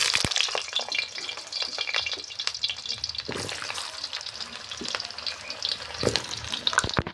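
Potato pieces fry in hot oil in a wok, a busy crackling sizzle with sharp pops and spatters. It runs close and steady throughout, with no one talking.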